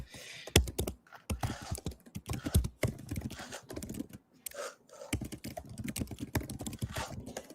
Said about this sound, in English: Everyone loves my fast typing.